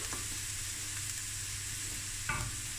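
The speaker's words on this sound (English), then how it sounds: "So this is just gonna go now on a lower heat because I've added the garlic" Chopped garlic sizzling gently in a pan over low heat, a soft steady frying hiss with one brief scrape of a utensil near the end, no voices.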